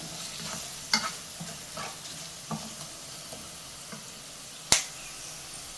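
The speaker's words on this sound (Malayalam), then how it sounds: "ഈ മുളക് പൊടിയുടെയൊക്കെ പച്ചമണം മാറുന്നവരെ ഒന്ന് ഇളക്കി കൊടുക്കാം" Chili powder masala cooking in a pan over a low flame, with a soft, quiet sizzle broken by a few light clicks and taps of a stirring spoon against the pan, close by.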